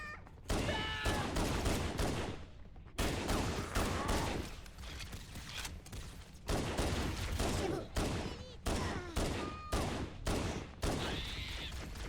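Repeated bursts of weapon fire in the video game Halo CE, sharp rapid volleys separated by brief pauses, loud and close against a steady background of game sound.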